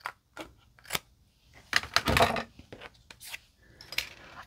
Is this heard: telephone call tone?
no